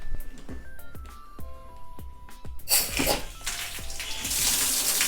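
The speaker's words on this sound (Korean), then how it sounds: "이 상태에서 수도꼭지를 열어보도록 하겠습니다." An outdoor frost-proof faucet taps and clinks a few times, then is opened and water gushes out in a loud, steady rushing stream, close by.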